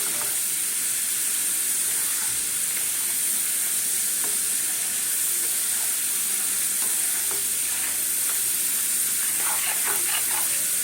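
Dalmut, a crunchy fried snack mix, fries in a pan with a steady, dense hissing sizzle throughout, with soft stirring scrapes and brief clatter toward the end; no voices.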